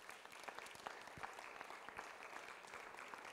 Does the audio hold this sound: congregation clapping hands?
yes